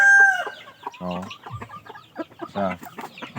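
Darag native chickens, descended from red jungle fowl, on a farm: a loud, close rooster crow opens, followed by a run of clucks and squawks from several birds, with no talk.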